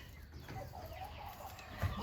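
A hen clucks softly in a chicken barn, faint scattered clucks over a steady hum, with a low thump near the end.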